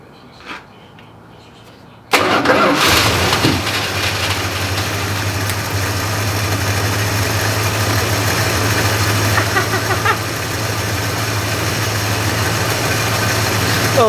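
After a couple of quiet seconds, a classic Mopar car engine cranks and catches with a sudden loud roar, then settles into a steady, rumbling idle close by.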